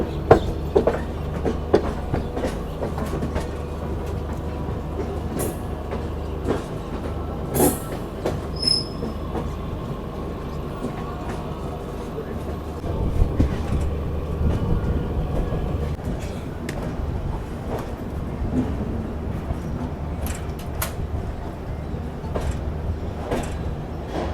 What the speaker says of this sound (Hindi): ये देख लो यहाँ की इंडिया की one and only double diamond crossing